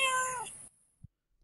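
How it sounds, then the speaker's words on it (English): A cat waiting at a door to be let inside lets out a single close, clear meow that fades out quickly, followed by a faint soft thump. "So he's meowing at me next to the door."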